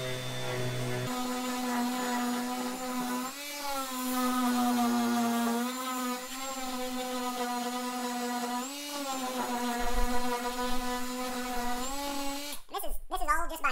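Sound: power sander smoothing a wooden bar top

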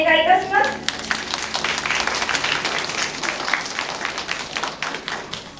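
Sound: applause at zoo zodiac handover ceremony

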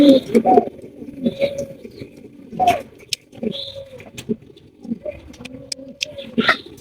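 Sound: pigeons cooing at a pigeon farm

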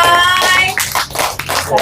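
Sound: audience clapping hands

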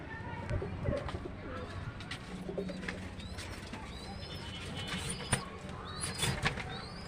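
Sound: pet pigeons cooing

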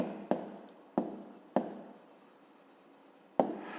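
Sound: writing down the answer

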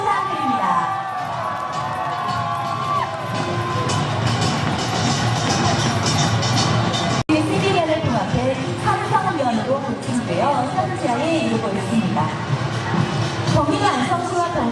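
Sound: crowd applauding and cheering for an athlete

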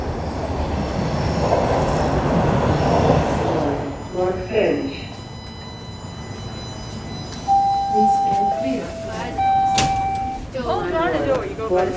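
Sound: Toronto subway train arriving at station

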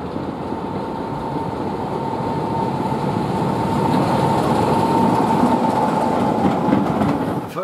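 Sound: diesel train passing

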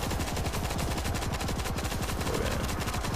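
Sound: machine gun firing in the video game World War Z

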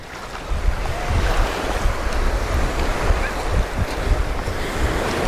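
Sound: sea waves at crowded central beach in Anapa

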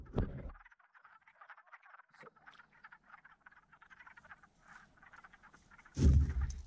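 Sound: frogs croaking in a vernal pool trap

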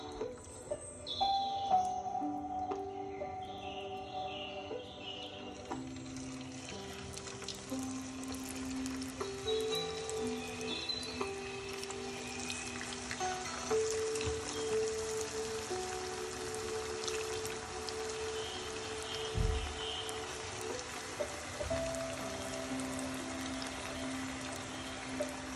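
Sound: chicken tikka lacha pakora going into hot oil

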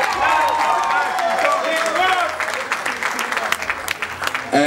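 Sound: concert audience applause

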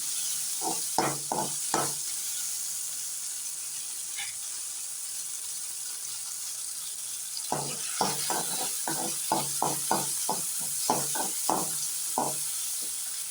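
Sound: sautéing chopped tomatoes in a pan

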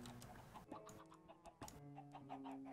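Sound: chickens clucking in a Minecraft farm (video game)

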